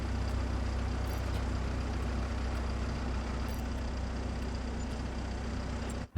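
An old tractor diesel engine in Farming Simulator 25 drones steadily and loudly, a constant low rumbling idle that holds throughout before cutting out sharply at the end.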